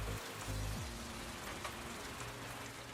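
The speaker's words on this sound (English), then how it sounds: "Uh-oh, it's raining in my kitchen." Steady indoor rain pours down in a kitchen, a dense even patter of drops hitting surfaces, loud and continuous throughout with a brief low thump near the start.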